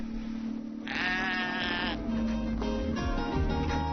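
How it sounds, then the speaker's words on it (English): Sheep bleat in the Xinjiang countryside, several wavering calls overlapping at close to moderate range, with one long bleat followed by a couple of shorter ones over steady outdoor background noise. "After some sheep gazing, I'm ready to check into my accommodation."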